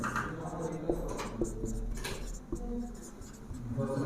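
A pen scratches notes by hand on paper during a class 12 business studies lesson, with soft, close strokes in short bursts beneath someone speaking.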